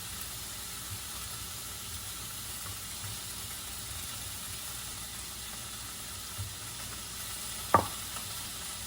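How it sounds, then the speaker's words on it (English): Leftover salmon reheats in a pan, a faint, even low sizzle and hiss with one small clink near the end and no talk. "I'm just reheating the salmon in a pan."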